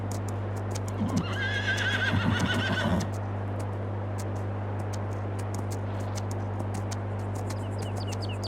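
A horse in a horse-riding video game gives a loud, shrill whinny lasting a couple of seconds, over a steady low hum, with clip-clop hoofbeats and bird chirps scattered around it.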